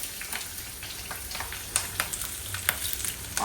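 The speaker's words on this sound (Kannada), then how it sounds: "ಏಲಕ್ಕಿ ಎಲ್ಲ ಹಾಕಿ ಆನಿಯನ್ನು ಹಸಿಮೆಣಸು ಹಾಕಿ ಫ್ರೈ ಮಾಡ್ಕೊಡೋಣ" Onions and green chilies fry with cinnamon, cloves and cardamom for chicken biryani at a friend's home, a continuous close sizzle with soft stirring scrapes and small spatters.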